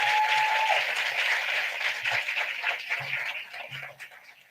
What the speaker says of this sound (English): Give her a round of applause for her service.